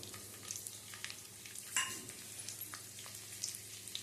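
Ten to fifteen garlic cloves drop into hot oil and sizzle, a low crackling fry with light stirring and one sharper clatter partway through.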